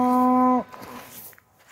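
A single loud, low moo from cattle on a regenerative grazing farm rings out close by, then fades into quiet outdoor ambience.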